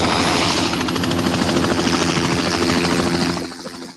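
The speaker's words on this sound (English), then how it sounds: "To help get our challenge off the ground, a special helicopter was flown in by pilot Larry Kirsch" A helicopter flies close by with a loud, steady rotor thump and engine drone that fades slightly at the end, with no voices.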